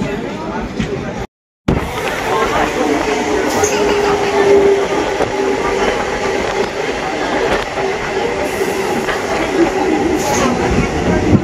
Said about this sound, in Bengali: ট্রেনটা কত আস্তে আস্তে আসছে।